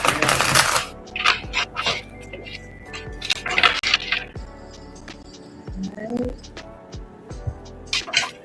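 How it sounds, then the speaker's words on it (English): Tarot cards being shuffled by hand, giving a run of soft riffling flutters and light clicks at close range, with a louder burst at the start and another midway, broken by brief pauses. "one more shuffle, two more shuffles"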